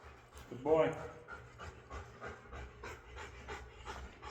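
A working-level training dog pants in quick, steady breaths close by after a session, the rhythmic huffing running throughout with a brief louder whine or vocal burst near the start.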